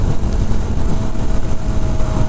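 Constant low motorcycle engine drone with a rumbling, humming exhaust tone, loud and steady while riding on a group ride, with rushing wind noise.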